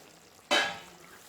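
Chicken pieces frying in a pan get a single quick stir, a sudden close burst of sizzling scrape that fades within about half a second.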